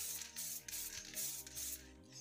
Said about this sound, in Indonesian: Baru yang lapisan kedua atau terakhir kita semprotkan agak tebal.